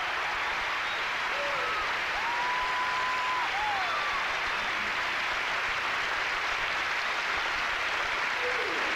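Audience applause for Dottie West at a 1979 Kenny Rogers television special, a steady sustained wash of clapping from a large crowd with a few faint whistles over it.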